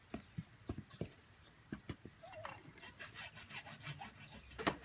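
Greywater plumbing pipe being cut by hand, giving a series of close, scraping rasps that start spaced out and quicken into a denser run of strokes, with no talking.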